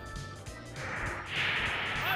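Fire Blast attack from the Pokémon Stadium video game lands with a crunching smash followed by a rising, sustained roaring whoosh of flame, loud and close, with a short thud near the start.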